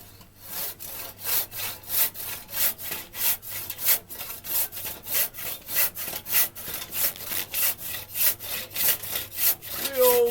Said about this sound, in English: old crosscut saw.